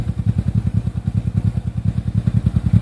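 A 1985 Honda Shadow VT700C motorcycle engine idles steadily nearby with a fast, even, throbbing pulse and a slight mechanical clatter, and no voices.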